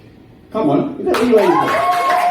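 Comedy show audience bursting into applause and cheers after a brief lull, loud dense clapping building with whoops while a host speaks over it.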